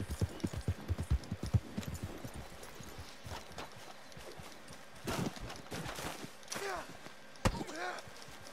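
Horse hooves clip-clop in Red Dead Redemption 2, a run of quick rhythmic hoofbeats at first, then scattered heavier thuds and knocks, fairly faint, with talk at times.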